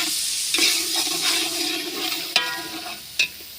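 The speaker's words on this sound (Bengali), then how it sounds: "তো আগে এটা ব্রাউন হবে আগে একটু আর একটু ভাজি হবে মশলাগুলো ভালো করে একটু মিশে যাবে" Eggplant frying with spices in a pan, a steady close sizzle broken by a few sharp scrapes and clicks of a spoon stirring against the metal.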